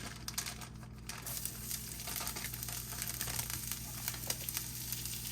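Whole bag of leeks hitting hot olive oil in a pan, a steady close sizzle and crackle with faint stirring clatter throughout, no talking.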